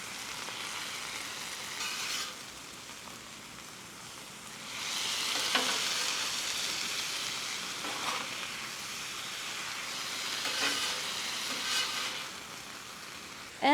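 Ingredients are stirred together in a hot frying pan, producing a steady sizzle with swelling bursts of frying noise and scraping stirs, close and continuous, no talking.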